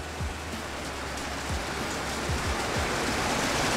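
Rain falls in a constant soft hiss outdoors, with occasional low bumps from handling and no voices.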